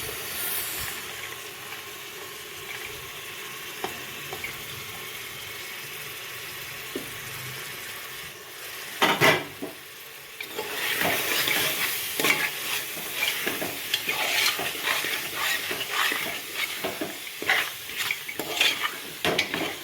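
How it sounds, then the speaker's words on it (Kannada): Vegetables including tomato, potato and carrot fry in masala for a healthy pulao, with a continuous close sizzle and repeated metal-on-pan stirring scrapes that turn louder and more vigorous after a sharp clatter midway, no voices. "ಸ್ವಲ್ಪ ಅದರಲ್ಲಿ ಮಸಾಲದಲ್ಲಿ ಫ್ರೈ ಆಗಬೇಕು ತರಕಾರಿ ಚೆನ್ನಾಗಿ"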